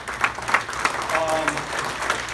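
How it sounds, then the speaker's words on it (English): A small crowd at a Hillsdale Republicans political gathering claps for a guest, with scattered, fairly soft applause mixed with a voice and room murmur. "Everybody give a round of applause for Michael."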